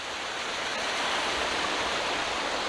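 A waterfall in the Northumberland hills rushes in a steady, close, full-bodied roar of falling water with no voices.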